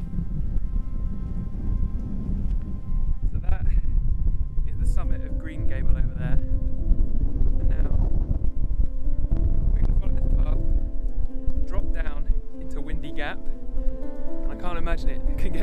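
Strong wind buffets a mountainside in the Lake District near Great Gable, a loud continuous roar and rumble gusting into the microphone, with people talking throughout.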